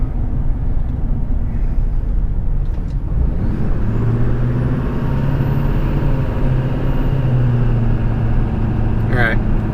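A 2005 Chevy Duramax twin turbo pickup cruising on the highway, a steady loud cabin drone of engine and road noise with a rising whine, heard from inside.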